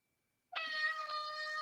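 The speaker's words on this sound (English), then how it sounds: "I need to meet this cat." A cat gives one long, continuous meow that starts abruptly after silence and stays strong and near for over a second.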